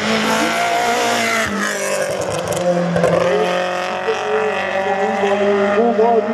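A race car at a hill climb event at Hébécrevon, its engine loud and close, revving and shifting through gears with a steady roar, while a commentator talks over it.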